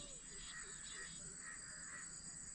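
Faint bird calls, including crow-like caws, sound at a distance near a large dam at sunset, a few separate calls over a steady high insect drone and soft background hiss.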